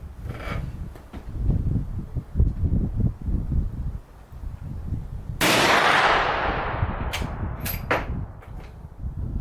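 A Vetterli 10.4x47 rifle fires outdoors: one loud, sharp blast with a long decaying echo, followed by a few fainter metallic clicks and clanks, after a stretch of rustling and handling noise.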